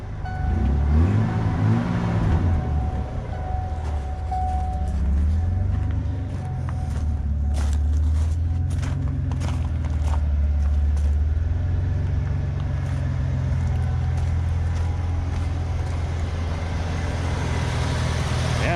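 A low-mileage Ford F250 pickup engine idles steadily and close by, a deep continuous rumble holding throughout with a few faint clicks and knocks over it.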